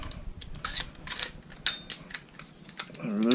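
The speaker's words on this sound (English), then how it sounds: "first I'm going to remove the bolt" A full auto bolt removed from a First Strike T15 upper receiver, with a series of sharp close metallic clicks and small scraping taps and a brief rising mechanical slide at the end.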